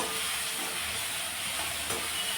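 Tomatoes stirred with salt in a hot frying pan give off a steady, close sizzle and hiss for a couple of seconds, with no talking.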